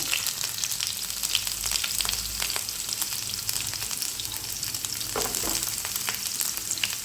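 Small onions sizzle and crackle steadily in hot oil with popped mustard seeds for Kerala kovakka mezhukkupuratti, a dense close hiss with scattered pops and occasional stirring scrapes, no voices.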